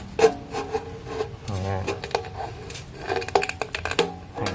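A knife is pushed through the side of a metal can to punch holes for a mosquito-repelling herb smoker, making uneven scraping, rubbing and sharp clicks under ongoing talk.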